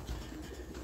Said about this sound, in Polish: ale są bardzo głodne gołębie